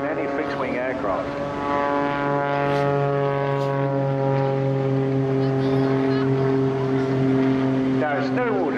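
A modified fixed-wing propeller aircraft hovers at a seaside airshow, its engine a loud, steady droning roar with strong harmonic tones held throughout, rising slightly near the end.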